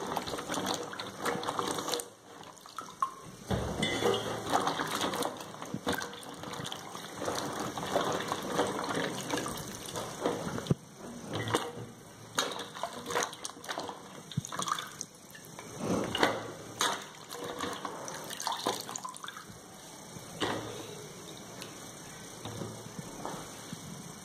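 Carrots and okra being washed by hand under a running kitchen tap, water gushing and splashing continuously with rustling of the vegetables and no talking.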